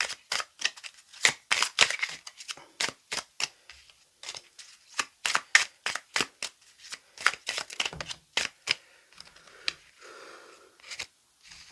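A deck of playing cards being cut and shuffled during a tarot-style card reading, a long series of crisp, rapid riffling snaps in uneven bursts, close and fairly quiet, with no talking.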